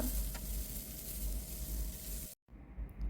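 Chopped onion with curry leaves sautéing in a pan, a steady close sizzle that fills the scene before cutting out abruptly near the end, then resuming more quietly.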